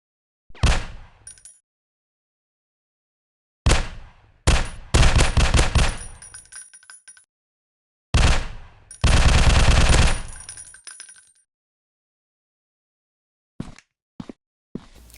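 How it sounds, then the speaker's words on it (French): Gunfire in a first-person alien survival shooter game: single loud shots and rapid automatic bursts come in separate clusters, each followed by clean silence, with no voice over them. "je vais essayer de lui tirer dessus"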